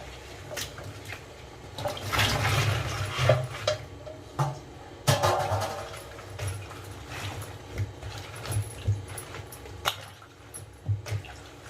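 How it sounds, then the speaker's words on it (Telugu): Water splashes and gurgles over salted okra and other vegetables in a container in a home kitchen, in a few uneven close pours with some clinks of a vessel between them. "నీళ్లు సరిపోకుంటే మళ్ళీ వేసుకుందాం"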